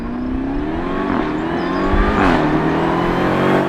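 A 2020 BMW X5M Competition SUV launches and accelerates hard, its engine rising in a loud, close, climbing roar with a brief gear-shift dip.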